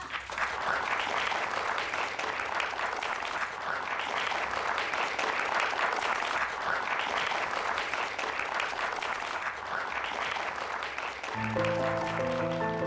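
Applause for award winners at a ceremony, a large audience clapping continuously and evenly for a long stretch, with music entering near the end.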